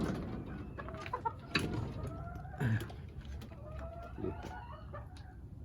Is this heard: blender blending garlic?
no